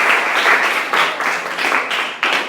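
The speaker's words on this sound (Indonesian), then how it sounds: "Oke, tepuk tangan dulu untuk kelompoknya" A classroom of students claps for a group that has just finished presenting, a close, fairly loud burst of applause that swells and dips in uneven waves over a couple of seconds.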